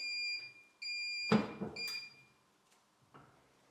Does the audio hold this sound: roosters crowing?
no